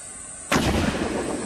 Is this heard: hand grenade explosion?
yes